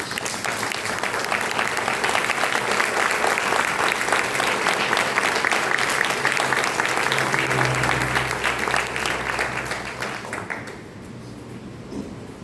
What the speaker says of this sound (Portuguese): dê uma linda salva de palmas para o Senhor Jesus.